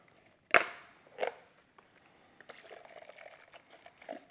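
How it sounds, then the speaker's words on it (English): Brake cleaner poured over BMW N52 Vanos parts to soak them: a sharp splash followed by a second smaller one, then faint trickling and dripping at close range. "I'm just soaking these in a little bit of brake clean."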